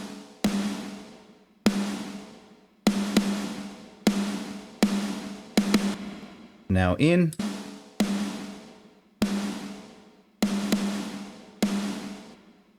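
A rock snare drum runs through the Kazrog K-Clip clipper, switched between bypassed and engaged, giving a series of loud, ringing, evenly spaced hits; someone speaks briefly partway through.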